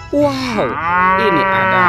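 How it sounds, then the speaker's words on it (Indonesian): A toy cow's loud, sustained moo rises and wavers, sounding up close, while a person speaks over its opening. "Yang ini ada sapi mo lagi teman-teman nih"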